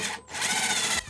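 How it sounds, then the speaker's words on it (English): A power drill driving a screw through trim into the metal studs of a van, a loud close whirring burst lasting under a second before cutting off. "We're screwing them right into the studs, the metal studs that run the length of the van."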